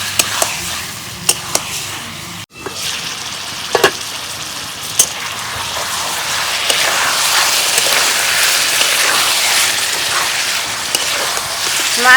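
Onion and chicken sizzle in a pan with tomato, a steady loud frying hiss that swells over time, broken by a few sharp clinks of stirring early on.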